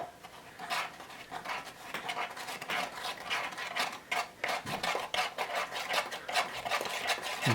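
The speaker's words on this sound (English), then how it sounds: "Just mix it up until you..." Chocolate oatmeal cookie batter stirred inside an MRE pouch, producing continuous rapid rubbing and scraping strokes, fairly close and steady, with no talking.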